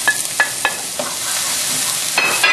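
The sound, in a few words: onion and sweet pepper stir frying in a pan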